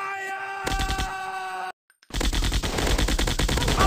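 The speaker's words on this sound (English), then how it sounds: "I'm shooting these fools up!" Rapid gunfire from a mobile shooting video game themed on an Indian Army surgical strike: a steady tone, then a brief silence, then loud rapid-fire bursts of machine-gun shots.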